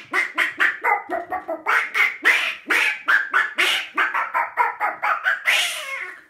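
A voice imitates a duck singing in a children's story about a mouse seeking a husband, a fast run of nasal quacking syllables in uneven bursts, loud and close.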